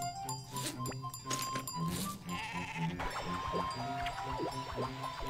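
A sheep bleats repeatedly in the video game GOMO, its wavering calls laid over a busy game soundtrack.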